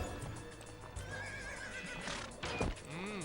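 Donkey from the Shrek 2 video game, transformed into a stallion by a magic potion, gives a clear horse whinny with hoof clip-clops, a sharp rising neigh near the end over game background sound.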